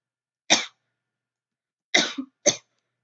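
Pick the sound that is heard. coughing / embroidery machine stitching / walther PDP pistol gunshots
coughing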